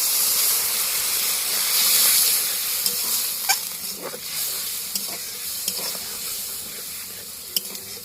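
Water poured into a hot pan of potato curry with a drumstick-flower filling hisses and sizzles loudly and steadily, with small pops and the clink of stirring toward the end.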